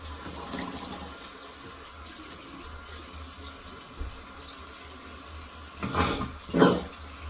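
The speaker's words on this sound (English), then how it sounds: "Just gonna rinse." Tap water runs steadily into a sink as a straight razor is rinsed, a soft continuous stream with a couple of louder splashing bursts near the end.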